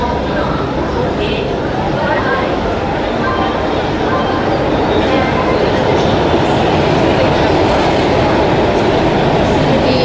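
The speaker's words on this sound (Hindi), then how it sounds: "ट्रेन आ गई है।" A train pulls into a railway station with a loud, steady, unbroken rumble and roar filling the scene, while people talk over it.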